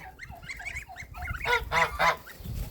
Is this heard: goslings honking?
yes